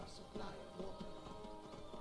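Horse hooves clip-clop in Skyrim near Riften Stables, a faint, steady rhythm of soft taps over a low background.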